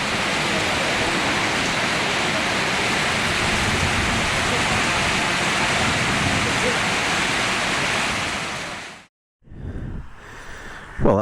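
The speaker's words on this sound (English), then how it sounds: "it is properly raining now" Heavy rain pours down during a motorcycle tour in Thailand, a dense, steady roaring hiss that holds for about nine seconds before cutting out abruptly, followed by a few quieter, scattered noises.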